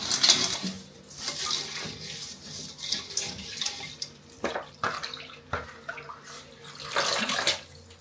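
Drinking water poured into a kettle, an uneven splashing trickle with a few clinks of metal, moderately close and rising and falling in bursts.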